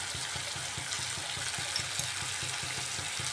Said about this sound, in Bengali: এইভাবে একটু একটু করে আমি ঢাকা দিয়ে দিয়ে চিকেনটাকে কষাবো